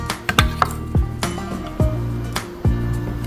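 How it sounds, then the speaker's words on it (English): A knife slices and minces on a cutting board, with about eight sharp, separate chops at an uneven pace over a low steady background hum. "go ahead and just slice it up"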